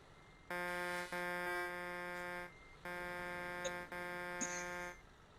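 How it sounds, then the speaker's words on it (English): Truck horn honking in a truck convoy video game, a loud harmonic buzzing blast held for about two seconds, a brief gap, then a second long blast, heard alone without speech. "stop honking."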